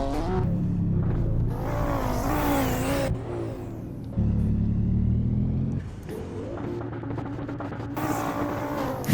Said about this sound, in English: Hitting the rev limiter.